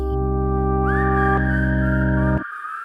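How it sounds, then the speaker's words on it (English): Recorded human whistling in a music track rises in over sustained synth chords, a clear gliding whistled tone held for about a second before the music cuts off abruptly. "Okay, and now we have a whistle."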